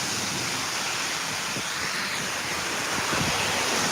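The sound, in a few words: heavy monsoon rainstorm in Thailand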